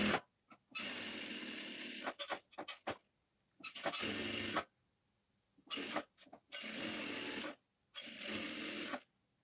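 A sewing machine stitches a cross-cut blouse, running in loud bursts of steady whirring, broken by short pauses and a quick cluster of brief stitches near the start.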